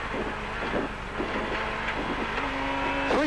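A rally car's engine heard from inside the cabin during a gravel stage, revving hard with rising and falling pitch through gear changes, loud and close amid wind and road noise.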